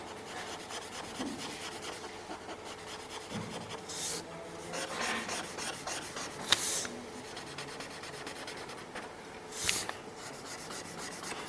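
A pencil rubs back and forth across paper while shading a drawing, a soft, close, steady scratching with a few brief louder strokes, and no one speaking.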